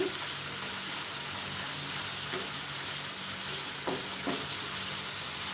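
Green beans cooking in a pan for a glazed green bean and carrot side, a continuous even sizzle with a few faint stirring scrapes near the end, steady and close, no talking.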